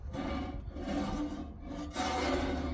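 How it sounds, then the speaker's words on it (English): Old vehicle brakes scrape with a harsh, rasping grind that rises and falls in two long sweeps, loud and close with no voices over it. "Well, it still scrapes."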